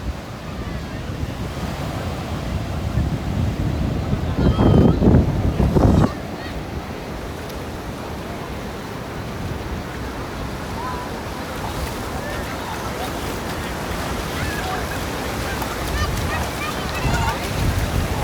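Steady roar of surf along the shore at Huntington Beach, California, with wind buffeting the microphone and voices talking underneath, the waves surging louder for a moment early on.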